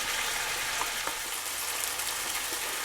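Lime chicken pieces frying in oil give off a steady, close sizzle with fine crackling pops throughout and no one talking.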